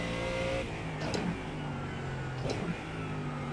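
A race car engine in the iRacing sim, humming at steady revs with two brief dips and spikes around quick gear shifts, loud and continuous with no talking.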